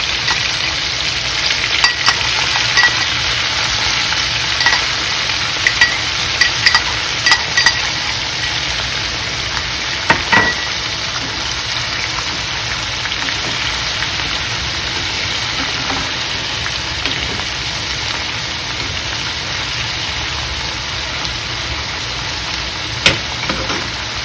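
Chili and chopped onions fry to a medium stage in a pan for a dry cod curry, giving a loud steady sizzle with occasional sharp pops and clicks of stirring, close and sustained with no talking.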